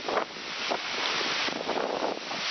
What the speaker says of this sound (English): Wind just picked up, it's steady at about 35-40.